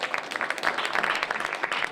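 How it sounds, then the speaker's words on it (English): Audience applause for candidates at a student services event, a steady, dense patter of clapping filling the whole stretch at moderate loudness with no pause. "let's get a round of applause for these candidates"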